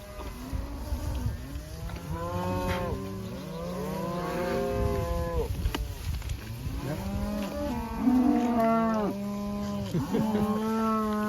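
A herd of cows and calves moo repeatedly in overlapping, drawn-out calls of varying pitch near a piped water tank on a pasture, some close and loud, others farther off, with no talking.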